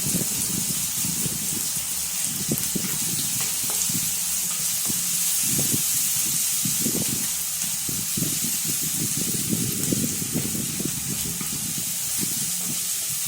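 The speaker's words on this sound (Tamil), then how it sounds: "கொஞ்ச நேரத்துக்கு வதக்குங்க" Potatoes sautéing in a pan for aloo sabji give a steady hiss and spray-like sizzle, with irregular low knocks of stirring against the pan running throughout, fairly loud and close, with no talking.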